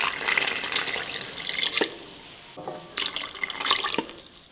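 About one and a half cups of buttermilk pour into cupcake batter in two close, splashing bursts, with a quieter pause between them.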